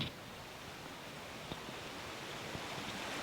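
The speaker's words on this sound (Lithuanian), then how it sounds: "Upės tekėjimo garsas." River water flowing in a steady, even rush of broadband noise, continuous and moderately soft, with occasional faint splashes and no voices.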